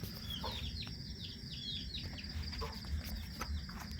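A breeder rooster clucks faintly a few times at a farm, soft and distant beneath a low rumble, with small bird chirps flickering above.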